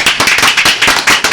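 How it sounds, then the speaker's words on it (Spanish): Studio audience on a morning radio show applauding a guest ambassador, a loud, fast run of sharp, close handclaps with a steady rhythm and no talking over it. "Aplaudimos todos."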